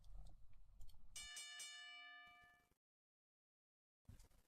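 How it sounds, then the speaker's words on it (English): Ringside bell at a UFW wrestling event: a quick run of several bright metallic clangs that ring out and decay, with crowd noise before and after a short silent gap. "There's the bell."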